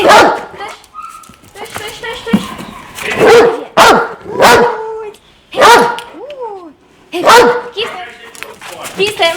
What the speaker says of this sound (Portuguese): não deixa de latir